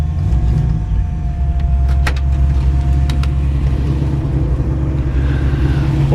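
A 1968 Chevrolet Camaro with a removable-bar six-point roll cage drives steadily with a loud engine drone, a few brief rattles and clunks sounding as it rolls over a bump.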